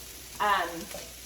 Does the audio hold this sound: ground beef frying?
yes